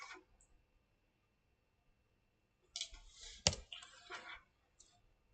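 Mouse clicks on a computer while saving a file: a short cluster of sharp, close clicks breaking an otherwise quiet room.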